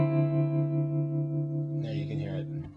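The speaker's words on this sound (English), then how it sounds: "I have a clean sound with a lot of reverb, and it's a plate reverb, the more vintagey." Clean electric guitar tone through vintage-style plate reverb with tremolo pulsing around 78, a sustained chord ringing and shimmering, then a brief strum near the end, with someone speaking quietly partway through.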